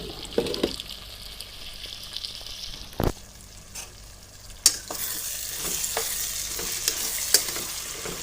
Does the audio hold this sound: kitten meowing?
no